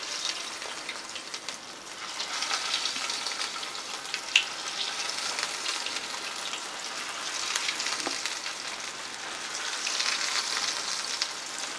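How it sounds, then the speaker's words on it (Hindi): Snacks sizzle steadily in hot oil in a pan over a medium flame, a dense, even crackle with occasional sharper pops, heard alone at moderate loudness throughout. "मीडियम फ्लेम में हम फ्राई करेंगे गोल्डन ब्राउन कलर आ जाने तक"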